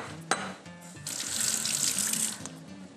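Tap water running into a kitchen sink to cool blanched broccoli, a bright steady splashing stream that surges louder after a brief clunk and continues alone.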